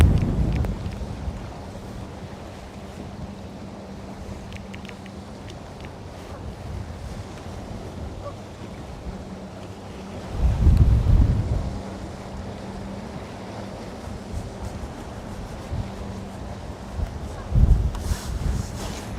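Wind gusts across open water around a bass fishing boat, a broad rushing roar with microphone buffeting that swells sharply around the middle and again near the end, with no talking.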